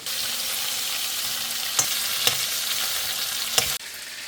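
Watermelon rinds fry in a pan with a steady, close sizzle that holds evenly throughout, broken by a few sharp utensil clicks before the frying cuts off abruptly near the end.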